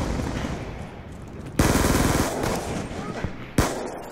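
Sentry turret in a shooter video game firing rapid automatic bursts, loud and close, with a fast rattling rhythm that surges in two heavy volleys over steady background gunfire.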